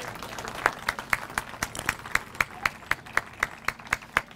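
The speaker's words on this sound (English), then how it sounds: "So please join me with a round of applause in welcoming Mayor Chris Beitler this morning." A small group claps in a clear, steady rhythm to welcome the mayor at a morning gathering with kids, each crisp hand strike distinct and evenly spaced about twice a second over faint room noise.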